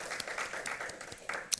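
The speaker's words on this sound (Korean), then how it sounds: "우리 하나님께 감사와 영광의 박수 올려드립니다." A church congregation claps briefly. The applause is soft and somewhat distant, with scattered claps and one sharper clap near the end.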